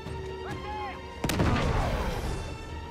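A grenade blast in the video game Uncharted 3: after a short tonal whine, a sudden loud broadband boom hits and rolls out into a long rumbling decay with scattered debris crackle, over game background noise.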